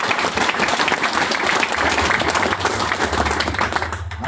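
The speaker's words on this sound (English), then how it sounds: "So if you guys could give them a round of applause," Meetup audience applauding its organizers, a dense wash of many hands clapping close and loud throughout, tapering slightly at the end.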